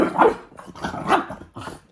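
A dog close by gives three short, sharp barks with a growly edge, spaced evenly apart.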